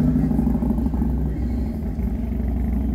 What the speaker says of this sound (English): there's a motorcycle coming by.